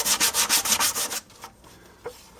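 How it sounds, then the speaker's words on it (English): Fine sandpaper rubbing along the glued joints of a wooden handle for a five-gallon bucket: about seven quick, steady back-and-forth strokes close up, then a pause and two faint single scrapes. "take some very fine sandpaper. And sandpaper, especially along the joints, to remove any dried glue or splinters of wood"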